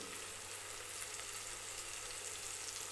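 Ginger garlic paste sizzles in oil with spices, making a soft, even, continuous hiss without breaks or voices.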